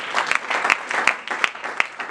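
A church congregation bursts into brisk, dense applause for the Lord, many hands clapping together in a lively rhythm with a few sharp accents, close and loud.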